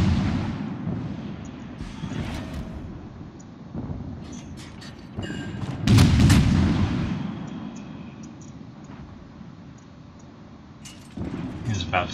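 Naval guns boom in World of Warships as the Bismarck is engaged, a few deep heavy blasts, one especially loud near the middle, among game noise and a talking player.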